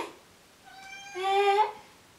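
A house cat meows once, a drawn-out rising and falling cry heard close and clear in a quiet room.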